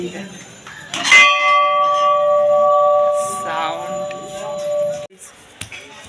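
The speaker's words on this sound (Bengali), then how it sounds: "একটা বড় ঘন্টা দেখাই তোমাকে" A large temple bell at the Maulakshi temple in Sainthia rings with a loud strike followed by a long, sustained metallic hum that slowly fades, with faint voices and ambient noise in the background.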